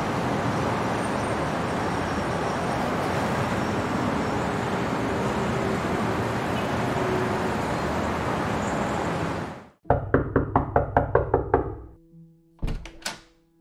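Loud knocking on a door at night: about seven quick, heavy raps close by, then a shorter burst of knocks, following a long stretch of steady broadband background noise.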